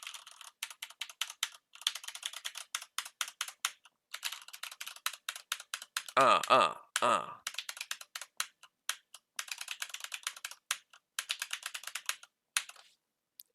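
Steady bursts of computer keyboard typing, quick key clicks in runs with short pauses, close and crisp, interrupted briefly by a squeaky sound midway.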